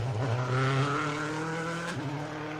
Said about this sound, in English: sound of a World Rally car blatting its way through this stage